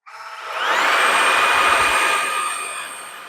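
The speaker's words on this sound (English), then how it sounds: "Now we're going to show you bare floor cleaning with the hard floor tool here." A Riccar R65 cordless stick vacuum on high suction with a hard floor tool, cleaning a bare floor: a close, loud motor whine that spins up quickly, holds steady with an airy rush, then eases slightly.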